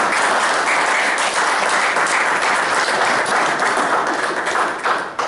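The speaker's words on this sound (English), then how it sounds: "So again, everybody, a round of applause." A dense burst of audience applause at a lacrosse press conference, many hands clapping together in a loud, even wash that holds steady for several seconds before easing slightly at the end.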